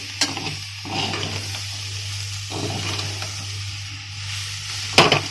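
Spice mix being stirred in a frying pan for singara filling, a soft continuous sizzle with scraping strokes, moderately close, closing with a sharper clatter.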